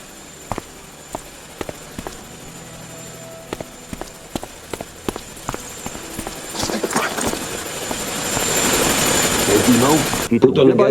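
A helicopter in the game Chornobyl Liquidators spools up, its rotor noise swelling from faint to loud and broadband over several seconds, preceded by a run of sharp rhythmic clopping thuds.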